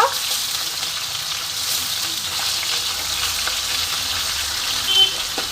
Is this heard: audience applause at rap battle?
no